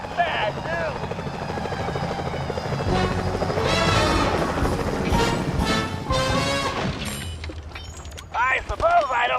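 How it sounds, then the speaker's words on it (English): Security helicopters in Sly 4: Thieves in Time whir loudly and continuously under game music and character voices, with crashing impacts mixed in. "Those security choppers are bad news."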